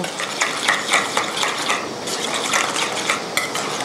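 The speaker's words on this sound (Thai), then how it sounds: "คุณผู้ชมจะต้องคนจนน้ำตาลละลายนะคะ" Ingredients for a lime sauce for steamed sea bass are stirred in a bowl until the sugar dissolves, giving a brisk, rhythmic series of spoon scrapes and light clinks, close and clear with no talk.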